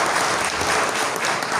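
A crowd at a business chamber speech in Ayvalık claps steadily and densely, a thick wash of applause with no gaps.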